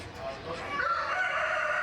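Chickens at a county fair poultry show, with a rooster's crow rising and holding over a busy, noisy barn background of clucking birds, close and fairly loud throughout.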